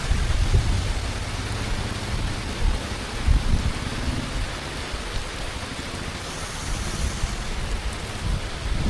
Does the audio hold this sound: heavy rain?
yes